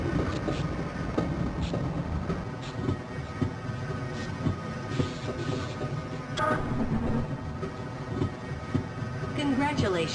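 Train rumbling along the track in the Black Mesa hazard course of Half-Life, a continuous loud rolling roar with clanks and rattles, a voice speaking over it.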